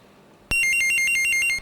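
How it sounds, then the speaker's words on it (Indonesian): An incoming phone call during a studio broadcast rings as a bright, fast electronic trill that starts abruptly and warbles steadily for about a second, loud and alone. "ada telepon yang masuk, kita angkat"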